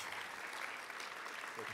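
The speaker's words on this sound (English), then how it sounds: "join me once again for a great round of applause for Ben and his organization" Faint but steady applause from the audience at a 2015 American Legion Auxiliary session, honoring Ben and his organization. The clapping is a dense, continuous wash with no pauses.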